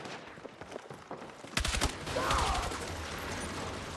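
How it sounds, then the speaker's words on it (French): Gunfire from the video game Battlefield 6: a sharp burst of several shots starting midway, followed by a louder, sustained rumbling blast, all heard up close. "j'ai tiré 2 balles dans le mur. Le mur il a explosé"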